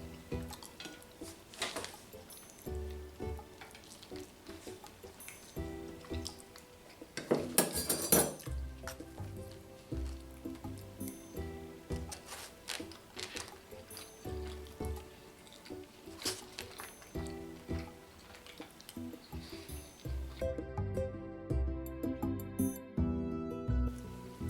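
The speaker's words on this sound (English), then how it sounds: "So we got some rice in the front here. Let me just dive in." Someone eats a Jamaican meal of rice and cabbage mukbang-style, with repeated clinks of cutlery against a dish and soft squishy chewing close up over a busy, continuous background.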